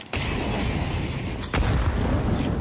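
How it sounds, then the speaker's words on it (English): A grenade blast in Counter-Strike, with a loud booming hit at the start followed by a second heavy burst midway, both sitting over dense, rumbling game noise. "Huge nade."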